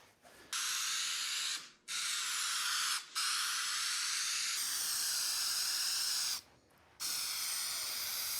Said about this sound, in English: I'm going to glue it down onto this with spray adhesive